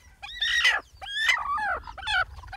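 A bantam rooster, a small half-wild bird of about 800–900 grams kept on a sheep farm in Ninh Thuan, Vietnam, crows in three close, loud, ringing bursts with short gaps between them.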